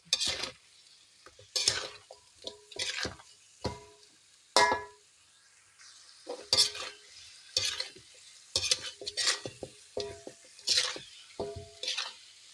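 Chicken feet (ceker ayam) being stirred in a pan, a run of separate loud scraping, squelching stirs with sizzle between them, the strokes coming in irregular bursts.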